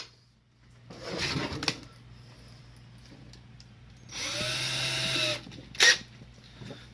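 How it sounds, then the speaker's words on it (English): A handheld power drill boring holes in an object, two separate bursts of whirring about a second each with a quiet pause between, then a short sharp clatter. "We're just going to drill a few holes in this thing."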